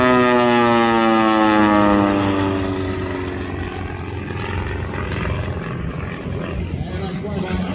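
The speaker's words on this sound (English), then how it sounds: "And nice fly by Anthony Oshinuga" Propeller aerobatic airplane passing in a fly-by at the 2025 Southern California Airshow, a loud droning engine note that shifts downward in pitch as it passes, then fades to a steady distant rumble with a commentator talking over it.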